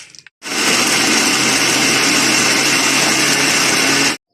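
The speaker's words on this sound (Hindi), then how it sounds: "हमने आम के टुकड़े काट के मशीन में डाल दिए हैं, साथ ही बादाम डाल लेंगे और इनको ग्राइंड करेंगे अच्छी तरह से" A kitchen blender grinds chopped mango pieces together with almonds, a loud, steady whirring roar that starts abruptly and runs continuously for about four seconds before cutting off, with no talking.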